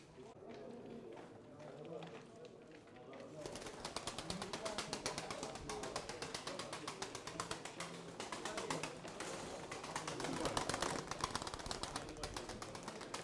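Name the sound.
pigeons taking off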